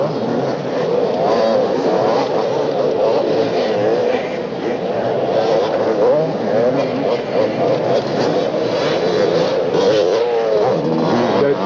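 Motorcycles race down the main straight at a 1982 Supercross International in Melbourne, with a steady buzzing engine roar and shifting revs at middle distance. A commentator talks throughout.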